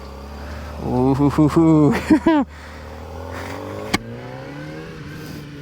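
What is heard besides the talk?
Kawasaki ZX-4RR motorcycle engine revving, pulling away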